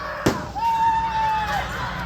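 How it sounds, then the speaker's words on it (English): Carnival fireworks on the final night set off a single sharp burst, followed by a long, steady whistling tone that lingers under the ambient crowd noise. "Jeez, there's the firework."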